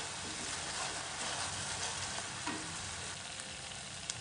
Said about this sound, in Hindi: धीरे धीरे इसको फ्राई करिए।